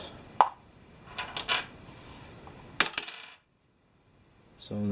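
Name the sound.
dice rolling on a table in a board game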